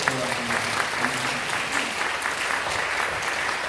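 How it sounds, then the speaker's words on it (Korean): A church congregation applauds steadily for the whole stretch, dense clapping at an even level, with a voice faintly audible near the start. "감사하며 또 격려하며 박수 한번 해주시죠"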